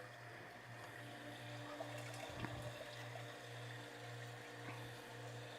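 Water is pumped during home brewing, a faint, steady liquid gurgle and hum with a low pulsing motor tone and occasional soft clunks, continuous and without talk.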